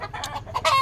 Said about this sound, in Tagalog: Bali may dalawang piraso po ako rito na manok, ito at saka yun.